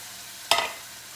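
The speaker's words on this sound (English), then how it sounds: "So we're gonna saute that for a little while." Corn sizzles as it is stirred in a hot pan, one sharp burst of frying hiss over a quiet kitchen background with no talking.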